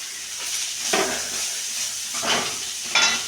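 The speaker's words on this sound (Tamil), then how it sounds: "கடுகு வெடிச்சுட்டு இப்போ கேரட் பீன்ஸை போடுறோம்" Chopped carrots and beans hit hot oil with popped mustard seeds, giving a steady sizzling hiss broken by a few bursts of stirring and clattering in the pan, close and moderately loud, with no speech.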